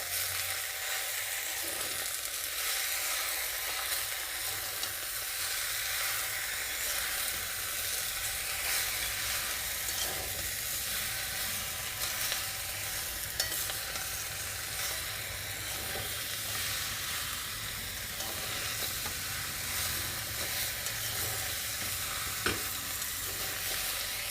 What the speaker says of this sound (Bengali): খুব ভালো মতো মিশিয়ে নেব সবজির সাথে পালং শাক